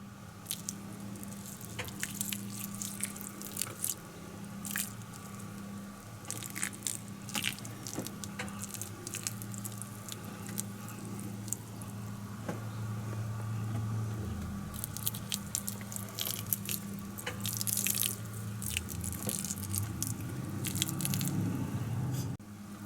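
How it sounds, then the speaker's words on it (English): Cactus pots get a little water each from close by, with soft wet patters, drips and small squishy splashes that come irregularly over a steady low background hum, and no talk. "I just provide a little bit of water in every pot or around every plant"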